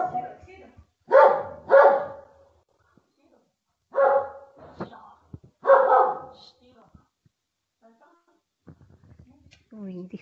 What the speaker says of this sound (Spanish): disculpen a mi perro